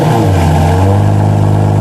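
A Lamborghini Murcielago LP640 engine revs loud and close as the car pulls away, a steady deep roar with rising harmonics, no talk over it.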